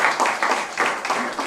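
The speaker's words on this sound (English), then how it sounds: "the participants are glad and they are clapping" Participants clapping at a Microsoft AgroTech hackathon grand finale, a few bursts of clapping at a close, moderate level, with no clear talk over them.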